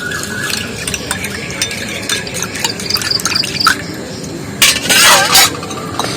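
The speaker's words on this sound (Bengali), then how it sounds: "এই উষ্ণ গরম জলে হলুদ গুঁড়ো আর লবণ ভালো করে মিক্সড করে নেবো লবণটা ভালোভাবে গুলে নেবো" Turmeric powder and salt are stirred into a bowl of warm water, giving close, continuous sloshing and swirling with small spoon clinks and a louder splashing burst near the end.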